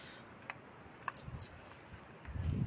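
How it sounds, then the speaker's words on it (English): Birdsong in spring woods with catkins: a few brief, faint high chirps and calls scattered over a quiet outdoor background, with low rustling and footstep-like noise building toward the end. "Birdsong."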